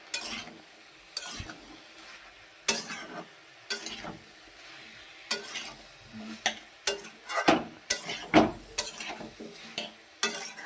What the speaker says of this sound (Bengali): একটু ভালো করে মশলাটা যাতে সব সবজির মধ্যে ঢোকে ভালো করে নাড়িয়ে নিচ্ছি।